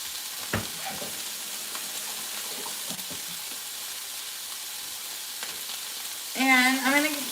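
Nacho meat and cheese get stirred in a pan on the stove, a soft low sizzle with scattered utensil scrapes and knocks, ending in a brief louder tonal squeal.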